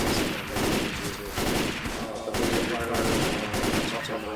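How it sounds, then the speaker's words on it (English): Rapid gunfire during a Left 4 Dead 2 finale on Xbox, bursts of automatic shots overlapping into a continuous fusillade, loud and close, with a brief gap partway through. "Watch where you're shooting."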